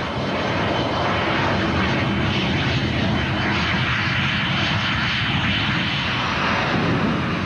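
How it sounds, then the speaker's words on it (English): Gloster Meteor, England's first jet fighter in service, with its aircraft engine giving a loud, continuous broadband roar that holds steady throughout with no speech. "England's first jet fighter to enter service,"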